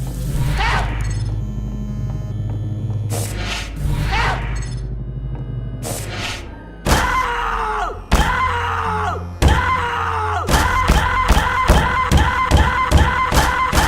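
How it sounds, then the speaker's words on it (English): A gnome in the video game Garry's Mod screams when struck, loud repeated shrill cries after heavy thuds, growing denser toward the end over a rumbling game background. "Grabbing it will cause it to yell for help, and hitting it will make it scream."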